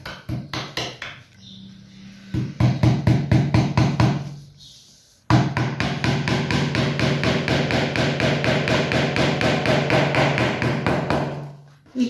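Rapid, steady hammer blows drive a nail into the wooden frame of an oil painting canvas. The close, sharp knocks come in quick runs with a short pause between bursts, and there is no speech.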